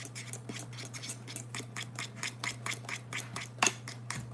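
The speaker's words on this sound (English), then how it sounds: "Keep stirring. I got this handy, like this whisk thing." A whisk stirring an ice cream raspberry marshmallow mixture in a pot makes soft, steady scraping strokes at a regular rhythm, close up, with one brighter clink near the end over a constant low hum.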